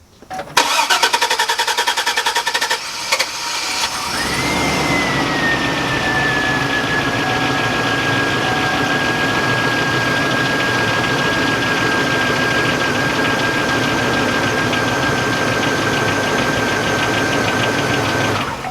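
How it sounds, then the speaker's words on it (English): A Chevrolet Avalanche engine cranks with a rapid, rhythmic starter churn for several seconds before catching, then settles into a loud, steady idle with a whining tone that runs to the end. "but then it also turns on and starts after a long time of cranking."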